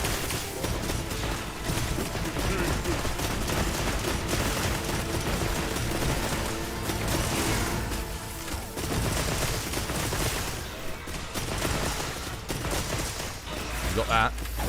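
Gunfire from a gun in Monster Hunter Wilds plays as a dense, loud barrage of rapid shots and impacts that continues almost without a break, layered with game effects.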